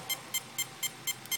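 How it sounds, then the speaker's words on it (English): Six short, evenly spaced electronic beeps from a Castle Mamba electronic speed controller in programming mode, each a bright high tone, repeating steadily at close range over faint background hiss. "So that's 9 beeps."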